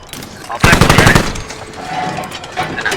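Sharp, loud burst of automatic gunfire from the video game Squad, during a tank crew match, with a rapid string of shots followed by fainter distant fire and brief talk.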